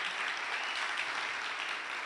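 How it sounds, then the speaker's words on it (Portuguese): A church congregation gives a sustained round of applause for its worship leader, dense, even clapping that fills the whole stretch without a break. "eu queria uma salva de palmas para ele"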